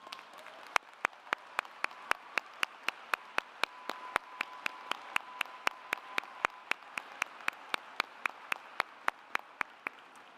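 Audience applause at a university graduation ceremony, distinct sharp claps at a steady rhythm, a modest number of people clapping in a large hall, loud and alone throughout.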